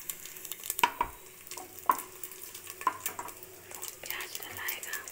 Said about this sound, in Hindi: एक साइड कढ़ाई गरम हो रहा है और एक साइड प्याज डाल रही है मम्मी